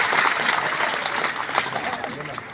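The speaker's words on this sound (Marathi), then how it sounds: "त्यांच्याकरता एकदा टाळ्या होऊन जाऊ द्या" A kirtan audience applauds: a steady, crowd-wide patter of clapping runs throughout, with a voice speaking over it.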